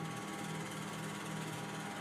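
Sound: conveyor belt motor of T960 reflow oven running

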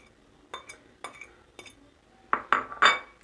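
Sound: stirring white cheese and spinach filling in a bowl

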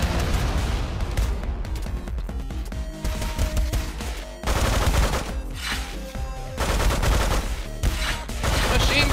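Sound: machine gun fire in Megabyte Punch video game

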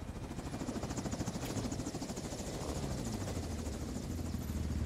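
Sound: helicopter in Modern Warfare 2 video game

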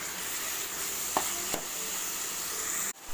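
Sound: onions sautéing in pan

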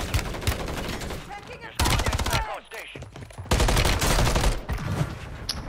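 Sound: gunfire in the video game Warzone

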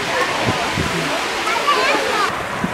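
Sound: waterfall in Capitólio, Brazil

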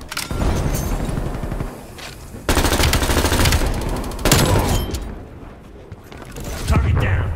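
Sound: gunfire in the video game Call of Duty Black Ops Cold War

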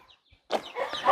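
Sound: chicken clucking in a Hmong mountain village

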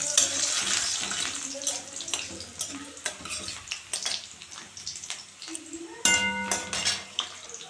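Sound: garlic paste frying in mustard oil in a wok

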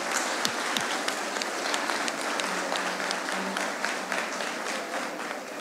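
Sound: audience applause at a concert

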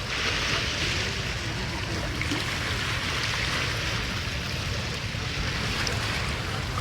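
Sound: river waves

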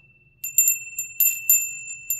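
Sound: small brass bell ringing

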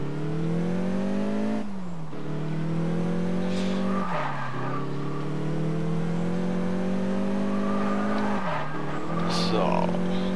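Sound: Audi car engine accelerating in video game Test Drive Unlimited

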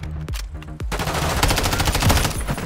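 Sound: gunfire in video game Call of Duty Modern Warfare 3

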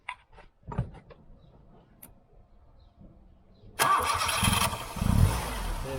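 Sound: Tofaş car engine being started with the starter

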